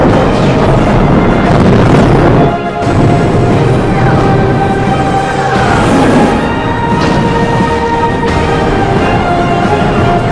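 Weapons fire and explosions rumble through a sci-fi movie battle in a nonstop loud, dense roar, with booms and whooshes layered over music and effects.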